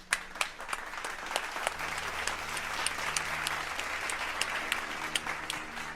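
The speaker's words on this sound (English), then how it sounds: "Can we get a round of applause?" A round of applause in a playthrough of the video game Omori: sharp, evenly spaced claps over a steady clapping wash, moderately loud and continuous.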